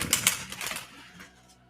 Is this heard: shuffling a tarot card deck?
yes